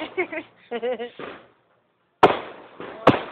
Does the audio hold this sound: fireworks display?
yes